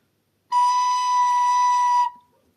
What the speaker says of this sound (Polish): zacznijmy naukę od dźwięku H